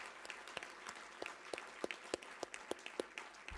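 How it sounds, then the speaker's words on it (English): Audience at a university book-of-the-month event gives the Vice Chancellor a round of applause, a fairly quiet, sparse patter of individual claps with distinct sharp hits spread across the room. "I thought you'll give our great Vice Chancellor here a warm round of an applause"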